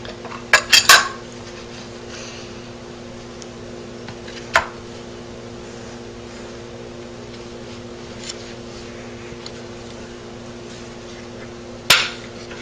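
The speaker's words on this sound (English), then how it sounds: "First, I'm going to reinstall the magazine and trigger guard." Metal parts of a Mosin Nagant rifle clink sharply as the magazine and trigger guard are fitted back in. Sparse, distinct clicks and knocks come at intervals against a quiet room hum.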